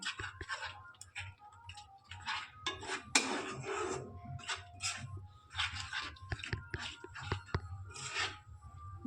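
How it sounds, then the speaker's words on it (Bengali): Prawn curry masala with sugar and sour yogurt is stirred in a pan over a low flame, giving frequent light clinks and scrapes from a utensil against the pan over a soft, steady background. "ভালোভাবে কষিয়ে নিচ্ছি"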